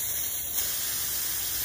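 Upside-down aerosol spray paint can releasing only propellant after the paint runs out, a steady close hiss with a faint high whistle early on, lasting under two seconds and cutting off sharply.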